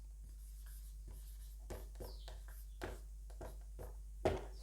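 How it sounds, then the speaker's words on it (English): A pen scratches out a matrix definition by hand, quiet and close, in short irregular strokes and taps over a low steady hum, with no voices. "So let's write the definition down."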